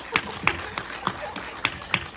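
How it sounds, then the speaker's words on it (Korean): A small audience at a documentary film screening Q&A gives scattered, sparse applause for the director, with only a handful of distinct, separate claps and no full ovation. "우리 감독님께 응원의 박수 부탁드립니다"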